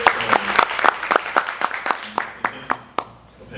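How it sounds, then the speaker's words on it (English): Sparse clapping from a small audience at an interview, a dozen or so distinct claps spaced irregularly and thinning out toward the end, fairly close with no talk over it. "So can you all give them a round of applause?"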